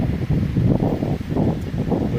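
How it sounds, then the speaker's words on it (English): Strong gusts buffet the microphone outdoors at a house where decking and siding are being built, a rough continuous roar that swells and dips without pause. "And the wind is coming in hard."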